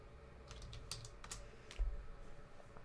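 Quick burst of typing on a computer keyboard while naming a spreadsheet worksheet: a handful of crisp, faint key clicks in an uneven rhythm over a quiet room, no talking.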